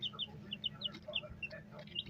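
A rooster or young chicken clucks in a series of short, quick calls, fairly faint and close, with light background noise between them.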